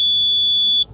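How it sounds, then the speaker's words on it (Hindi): A Maruti Brezza sounds a single steady high-pitched electronic beep when its fuel is switched to CNG, clear and close, cutting off abruptly near the end. "वापस हम इसे CNG पे शिफ्ट करेंगे तो एक बीप आएगी"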